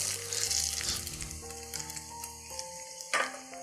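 Shrimp paste tofu pan-frying over gentle heat, a continuous close sizzle with small crackles and pops, with some tonal background sound running underneath.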